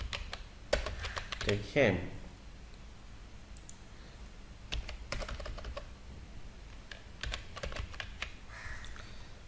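Computer keyboard typing while entering data into a SQL Server table: quick bursts of close, crisp key clicks with pauses between them, and someone speaks briefly near the start.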